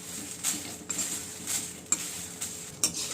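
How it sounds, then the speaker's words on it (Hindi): Dry red chillies roasting in a kadhai for homemade raw mango pickle, with a spoon scraping and clinking against the metal pan in several bursts over a soft background hiss, close and fairly loud, no talking. "अब इसी के अंदर सूखे हुए लाल मिर्चियाँ भी डाल दीजिए, डाल के हल्का सा इसको भून लीजिए"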